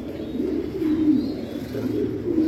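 Danish fancy pigeons in a breeding pair coo steadily and close by, a low continuous rolling call with no voices over it.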